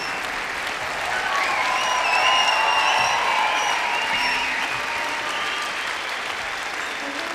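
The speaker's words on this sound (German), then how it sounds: "Schön geklatscht übrigens." A concert audience at an orchestra event in Frankfurt applauds after a song, dense sustained clapping that swells then holds steady, with cheering and a voice rising above it.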